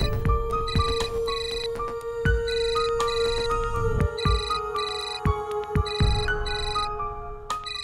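A telephone rings repeatedly in steady bursts of electronic tones, loud and close with no talking over it, in a Hindi television drama.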